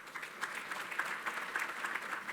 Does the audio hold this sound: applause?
yes